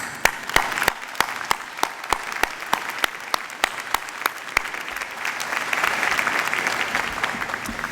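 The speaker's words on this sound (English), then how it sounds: "So please, let's applaud them all" A university convocation crowd applauds with sustained, dense clapping; a few sharp individual claps stand out close by over the steady wash, which swells slightly toward the end.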